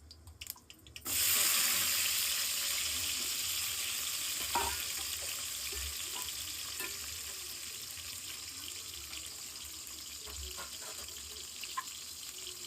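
Mustard seeds, green chilli and onion frying in hot oil in a home kitchen, a steady close sizzle that rises sharply at the start and holds, with faint clinks of stirring over it.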